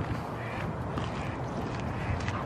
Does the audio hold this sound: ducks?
yes